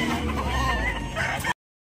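Chickens cluck and a gold stag rooster calls close by at a poultry sale, a steady run of fowl sounds over a dense, busy background before cutting off abruptly.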